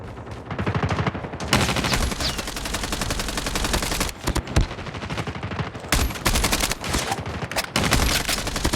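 Continuous rapid automatic gunfire in the mobile shooter game COD Mobile, loud bursts of repeated shots with brief pauses between volleys.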